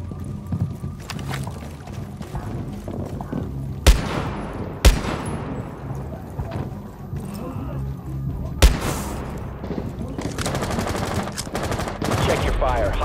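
Gunfire in the video game Rainbow Six Siege during a hostage mission, a few sharp loud shots spread over the clip against busy in-game ambience and rumbling movement.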